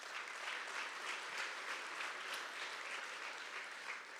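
Steady audience applause at an athletics awards ceremony, a sustained rippling wash of many hands clapping at moderate volume with no talking.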